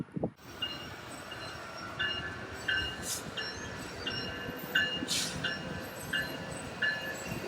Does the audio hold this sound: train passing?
yes